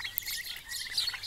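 Young turkey poults in an outdoor run give thin, high chirps that overlap in a busy, continuous peeping, close by and without any talking.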